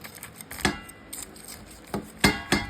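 A knife cuts baked meat lasagna into pieces, giving a few sharp, separate chops and clacks against the dish, close and irregular, with soft kitchen noise between them.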